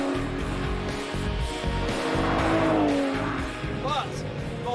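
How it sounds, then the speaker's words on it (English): An Aston Martin Vanquish is driven hard, its engine roaring steadily nearby with brief tyre squeals, while music or other sound runs beneath. "this is the closest thing to Bond's current ride, the Aston Martin Vanquish"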